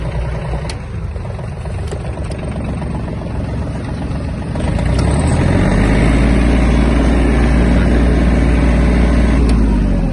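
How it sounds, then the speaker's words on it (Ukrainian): Japanese Yanmar RS-24 mini tractor diesel engine idling after warming up, a loud, close, steady low chug that rises in level and becomes deeper and heavier about halfway through. "Двигун уже трохи прогрівся"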